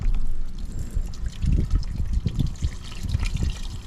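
Water is lightly sprinkled over the corners of a pond, a soft continuous patter and trickle with low rumbling splashes, close and steady for a few seconds.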